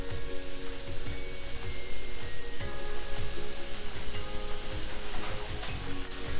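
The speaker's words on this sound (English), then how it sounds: "while the meat is still browning" Ground meat browning in a pan with organic taco seasoning, giving a steady, close sizzle and crackle throughout with a few faint stirring scrapes.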